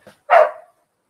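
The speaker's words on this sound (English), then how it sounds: "That dog is loud." A single loud dog bark rings out nearby, preceded by a faint short yip, then quiet.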